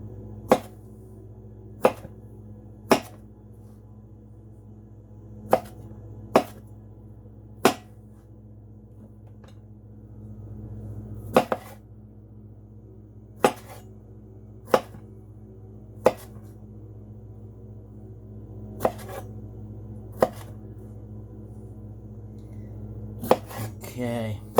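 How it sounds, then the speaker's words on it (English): Knife chopping tomatoes on a cutting board for raw tabouleh, a steady series of sharp, distinct knife strikes spaced a second or two apart over a low constant hum, close and clear with no talk. "I'm cutting the tomatoes into 8 little pieces."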